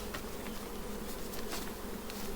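A calm honey bee swarm hums densely at the hive, a thick, continuous close buzz with individual bees droning past now and then, no talking.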